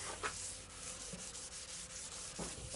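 Continuous close scratchy rubbing as car paint on a candy red Peugeot 406 is sanded down to an even matte surface, with faint scraping strokes and no voices.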